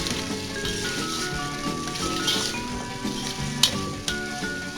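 Tomatoes added to a hot pan of vegetable pulao sizzle with a steady crackling hiss, broken by a few sharp pops and spatters.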